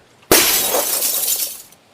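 Window glass shatters in one sudden loud crash, followed by a bright spray of breaking shards that rings on for about a second and a half before cutting off into quiet.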